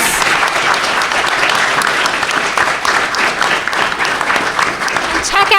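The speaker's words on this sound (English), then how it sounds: "Can I have a round of applause for our amazing panelists?" A conference audience claps steadily for a panel in a dense, continuous round of applause lasting several seconds, loud and close, with a voice faintly mixed in.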